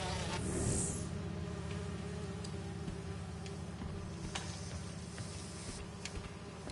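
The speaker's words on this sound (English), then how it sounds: "Ultralight drones using the new battery tech for crop monitoring." Ultralight crop-monitoring drones from Spider-Man 2, running on new battery tech, give off a steady insect-like buzz that drones on evenly throughout, with a few faint ticks on top and no talking.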